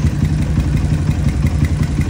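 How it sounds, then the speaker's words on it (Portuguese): Small single-cylinder OHC motorcycle engine with basic tuning, running on ethanol, idling loudly and steadily up close with a fast even pulse and light mechanical clatter. "Rapaziada, motorzinho OHC, preparação básica das básicas, comandinho não faz um barulho"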